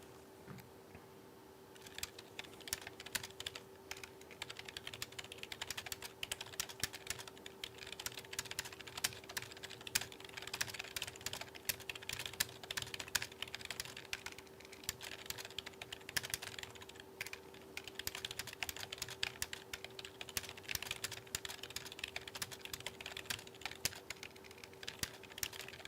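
Rapid, continuous clicking of keys on a computer keyboard, steady and fairly quiet throughout, with a faint constant hum underneath and no voices.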